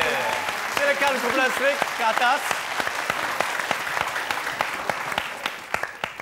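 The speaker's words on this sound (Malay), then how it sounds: "Jadi kita harus beri tepukan kepada" A studio audience applauds to welcome a band onto the stage, sustained clapping heard close while a host's voice speaks over the start of it.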